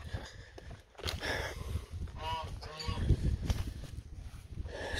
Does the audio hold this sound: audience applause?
no